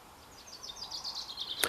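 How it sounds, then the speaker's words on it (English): Birds chirp and whistle faintly outdoors, a quick series of high rising notes repeated in a row, followed by one sharp louder call at the end. "listen to the birds"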